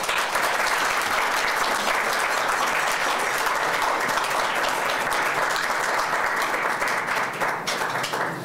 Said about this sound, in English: let's give a really big round of applause for our final honoree, Bart Stichman.